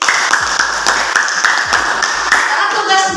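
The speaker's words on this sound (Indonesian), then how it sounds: "Tepuk tangan buat Selin" Applause and clapping for a student at an academic coaching session, a steady patter of hands over about three seconds with voices murmuring underneath.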